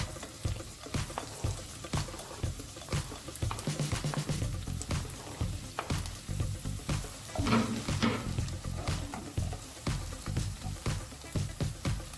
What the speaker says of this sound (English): Then add the diced onion and brown it